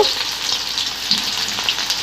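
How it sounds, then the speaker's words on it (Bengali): Fritters fry in hot oil, giving a loud, steady, close sizzle with light bubbling crackles throughout that cuts off abruptly at the end. "এইভাবে বড়াগুলো আমি ভেজে উঠিয়ে নিব।"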